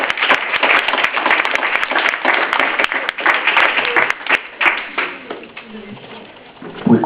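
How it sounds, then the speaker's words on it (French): An audience at a slam poetry evening at the M.J.C. in Morlaix claps loudly and steadily, a dense burst of applause that eases and thins near the end. "On applaudit très très fort s'il vous plaît."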